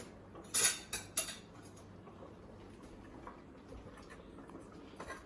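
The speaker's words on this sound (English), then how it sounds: "So now we're going to add our beans." Beans drop into a pot of beef bulalo soup with corn and potatoes, giving a few sharp metallic clinks and clatters early on, then faint bubbling and soft kitchen rustles.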